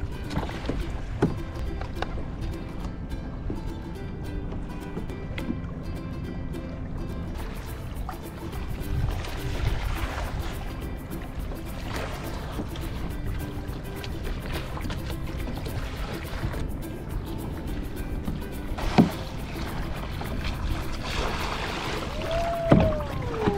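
Kayak paddling on open summer water, soft splashes and drips from the paddle strokes over a steady low wash, with a few brief creaks near the end.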